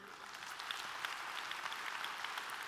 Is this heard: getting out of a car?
no